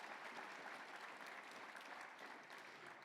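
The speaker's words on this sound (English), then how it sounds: "give Chief another round of applause" Audience applause for a tribal chief at a welcoming gathering, dense steady clapping from a crowd filling the whole stretch, even and continuous.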